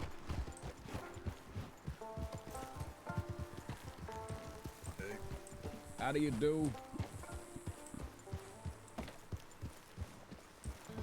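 Hooves clip-clop in a steady walking rhythm, fairly quiet, while a person talks over them and a louder vocal sound rises briefly in the middle.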